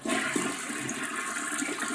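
A toilet flushes to empty its tank, a strong rushing swirl of water close by, continuous for the whole moment with no talking.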